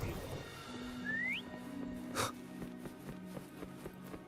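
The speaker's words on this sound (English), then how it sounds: "Try whistling." In Wuthering Waves, a character gives one short whistle with a rising pitch to call a companion, heard once and clearly over the game's steady music and ambient background.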